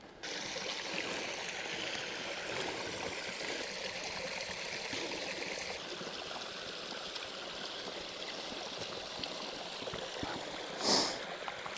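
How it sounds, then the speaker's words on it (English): A creek flows steadily beside a bear-hunting camp in the woods, a continuous close wash of rushing water with one brief louder splash or snort near the end. "we're right next to the creek."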